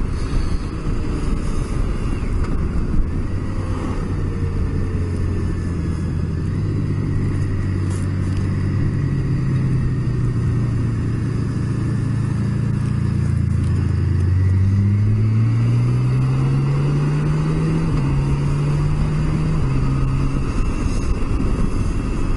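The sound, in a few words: riding a motor bicycle on the road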